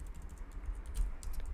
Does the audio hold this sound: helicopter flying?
no